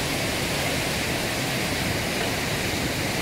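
Water rushing out of the outlets of a dam with thirteen water outlets, a steady, loud, broadband roar with no pause or change from start to finish.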